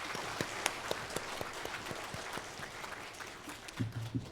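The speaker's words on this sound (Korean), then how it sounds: "우리 하나님께 영광의 박수 다시 한번 드리겠습니다" Applause from a church congregation during a Sunday worship service, a sparse scattering of claps at moderate distance with a few louder hand strikes near the end, no talk over it.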